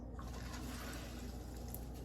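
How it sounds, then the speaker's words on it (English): Tap water runs steadily to rinse a K8 machine after its filter cartridge is removed, a close, continuous rushing stream with no pauses and no voice. "is you let the water run."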